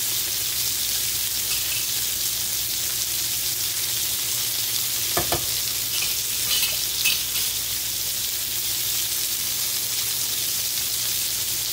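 Bacon cheese stuffed burgers sizzle loudly and evenly in a pan, with a short clatter about midway through and otherwise an unbroken frying hiss.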